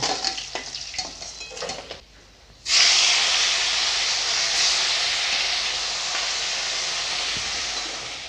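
Fish sizzling loudly in hot oil in a home kitchen wok, a steady broad frying hiss that jumps up sharply after a brief quieter moment and then holds strong and continuous, with faint clatter before it.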